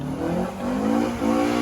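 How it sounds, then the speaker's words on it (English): Honda Civic with a B20 VTEC engine accelerating hard in a naturally aspirated front-wheel-drive drag race, loud rising engine revs with quick shifts between pulls. "Ryk die Honda van Roan in die regterbaan."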